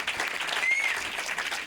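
Steady audience applause at a comedy show for a mock Marseille mayoral candidate, a dense even patter of many hands clapping with no talk over it, holding through the whole moment.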